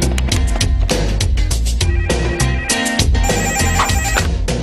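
A telephone rings loudly and continuously in a comedy sketch, the repeated electronic ringtone filling the whole stretch with steady energy and no voices over it.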